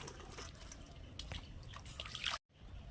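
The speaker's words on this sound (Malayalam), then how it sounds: "അരി വെന്തിട്ടുണ്ട്. നമുക്കിനി അത് ഊറ്റാം." Cooking water drains off boiled rice for a fish biryani, a soft continuous trickle and patter that ends abruptly in a brief silence before faint sound resumes.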